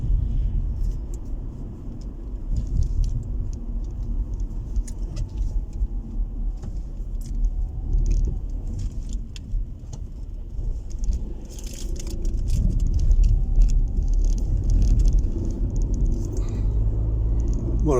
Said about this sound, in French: ça c'était la petite sortie donc matinale en voiture